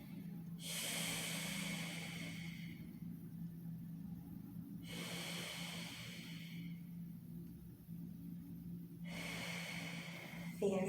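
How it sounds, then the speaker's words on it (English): Deep breathing during a yoga hip stretch: three long, airy breaths spaced about four seconds apart, close to the listener over a faint steady low hum. "Breathe into it."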